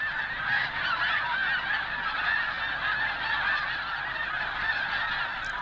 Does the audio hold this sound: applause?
no